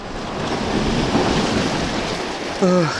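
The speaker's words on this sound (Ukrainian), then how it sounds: "Море так, трошки хвилюється." Rough Black Sea waves wash against the shore at a pier in Odesa, with a constant roar of surf and gusting wind buffeting the microphone. A brief tonal whistle-like sound cuts in near the end.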